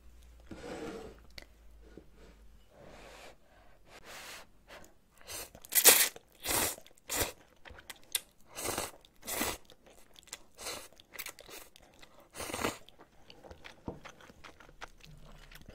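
Close crunchy chewing and slurping of spicy kimchi with bean sprout ramen in irregular bites, loudest through the middle, in a quiet room.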